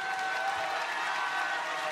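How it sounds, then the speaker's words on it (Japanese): An arena audience at a RISE kickboxing event applauds steadily in a soft, even wash of clapping at a distance, with no voices standing out. "今一度盛大な拍手をお送りください"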